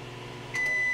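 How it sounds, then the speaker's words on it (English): Microwave oven powered by an Allpowers R1500 LiFePO4 1800W portable power station, a steady low hum that rises in loudness partway through, with a thin high tone appearing over it. "You can hear from the microwave, it sounds fine and it operates normally."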